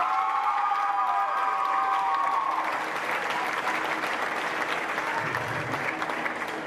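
Audience at a county supreme showmanship event breaks into sustained, dense applause with some cheering, loud and close throughout, rising after an opening tone and continuing steadily to the end.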